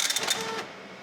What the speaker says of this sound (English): then the printer will print the screen